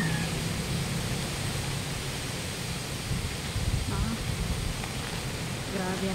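Steady hiss of heavy rain with strong wind during a stormy morning, a dense continuous wash of sound with a voice speaking briefly over it.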